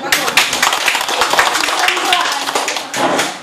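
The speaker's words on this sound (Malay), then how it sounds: "Nah, beri tepukan." A classroom group claps on a teacher's cue, a dense, fairly loud burst of rapid hand claps that runs for several seconds and then briefly picks up again.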